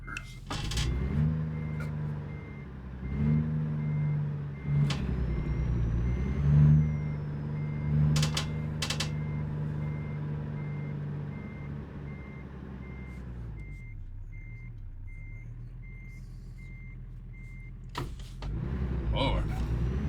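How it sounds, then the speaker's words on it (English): A heavy truck in American Truck Simulator backs up, its reverse alarm beeping steadily over a low engine drone, with a few sharp clicks and a pause in the beeping partway through. "Yeah, we're just gonna back this thing up."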